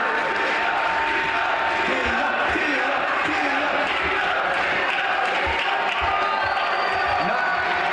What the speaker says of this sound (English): I saw a lot of people cheering, a lot of hooting and hollering